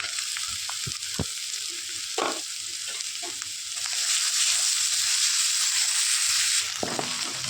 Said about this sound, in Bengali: কুচিয়ে রাখা পেঁয়াজগুলোকে একটু ভালো করে ভেজে নেবে